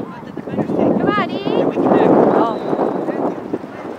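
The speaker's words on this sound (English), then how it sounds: "the wind is starting again" Gusty wind buffets the microphone at an outdoor youth soccer game, a rushing roar that swells and fades over a few seconds while spectators shout and cheer over it.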